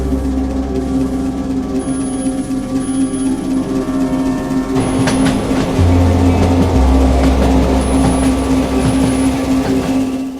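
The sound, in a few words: ghost train arriving in a cartoon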